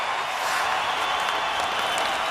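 Hockey arena crowd during an NHL playoff game standing, cheering and applauding in a broad, steady roar that fills the space, continuous and fairly distant.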